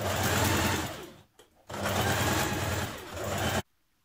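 A sewing machine stitches close to the edge of a facing seam on a Simplicity 8052 top, running in two steady loud bursts with a brief pause between, then stopping abruptly.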